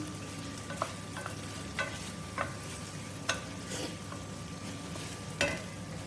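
Onions frying in a pan, a quiet steady sizzle with scattered sharp clicks and scrapes of stirring at irregular intervals, fairly faint and with no talking.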